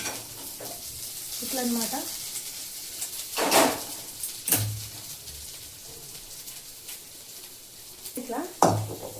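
A tempering of spices for tamarind chutney sizzles in a pan, stirred with a utensil that scrapes and clinks in repeated bursts while someone talks briefly.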